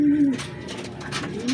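Pigeons coo close by in Arayat, Pampanga, in soft, low, rolling calls at the start and again at the end, with faint outdoor background noise between the calls.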